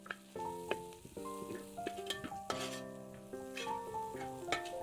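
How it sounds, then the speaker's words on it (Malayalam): Curry leaves fry in a pan of oil for a pork fry and are stirred, giving a soft sizzle broken by scraping stir strokes, faint and close. "നിറച്ച് കറിവേപ്പില മാത്രമായിട്ടാ ഇത് ഇടുക, ഒന്ന് ഇളക്കി കൊടുക്കുക."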